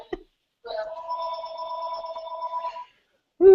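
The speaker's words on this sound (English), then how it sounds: "We'll let Tom answer that phone." A telephone rings once in a long, steady electronic trill, clear and fairly close, between brief bursts of talk that come just before and right after it.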